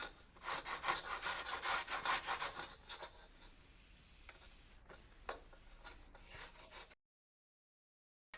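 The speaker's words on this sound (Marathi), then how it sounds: "बारीक बारीक खापा केलेल्या आहेत ना त्या सगळ्या किसून घ्यायच्या" Small pieces of pumpkin being grated by hand in a village kitchen, a close, steady scraping rasp in quick strokes that slows and thins toward the end before stopping into silence.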